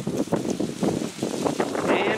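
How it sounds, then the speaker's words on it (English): Gusty outdoor wind buffets the microphone beside a dumpster behind a Dollar Tree store in rain, with a rough, close rumble throughout and someone speaking over it. "And the wind is picking up."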